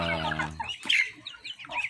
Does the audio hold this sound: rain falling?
no